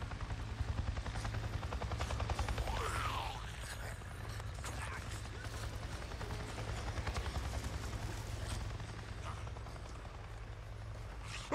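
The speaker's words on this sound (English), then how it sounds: "I just saw a goddamn chopper! A chopper? What are you talking about? A Nero chopper! It just buzzed right over me." A helicopter buzzes overhead in the video game Days Gone, a low rhythmic rotor thump that stays steady and fairly loud throughout and fades slightly toward the end, with a few faint game sounds over it.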